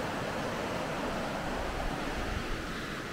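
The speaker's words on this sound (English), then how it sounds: "it has another bridge right here that has a little stream at it." Small stream running down under a bridge on a hiking trail near Ocoee, Tennessee, a steady, close rushing wash of water with no break and no voices.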